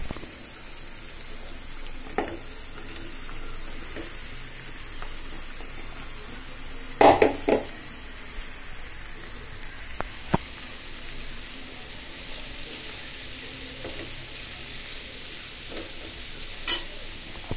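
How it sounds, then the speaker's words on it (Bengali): Vegetable fritters fry in hot oil with a steady, gentle sizzle and light bubbling, marked by a few clattering knocks of a spatula against the pan. "কিছুক্ষণ হয়ে যাক তেলে, তারপর উল্টিয়ে দিব"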